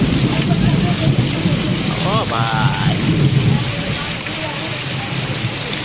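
Heavy rain pours down during a thunderstorm in Palitana, a dense, steady roar with deep rumbling thunder underneath, while a person speaks briefly over it.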